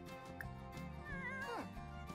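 A cat meows in The Sims 4, a few short rising and falling cries near the middle of the clip, laid over steady game music and ambience.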